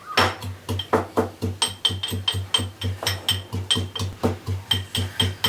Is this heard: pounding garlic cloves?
yes